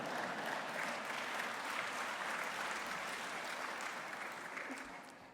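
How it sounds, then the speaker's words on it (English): Sustained applause from a large audience at a mayor's annual State of Metro address, a dense steady wash of clapping that carries on throughout and eases slightly toward the end. "That deserves a round of applause right there"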